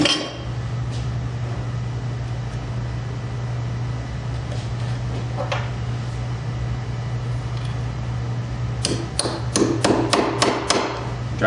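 A hammer drives a taper pin into the headstock of a South Bend lathe: several sharp metallic strikes in quick succession near the end, with one earlier tap, over a steady low workshop hum.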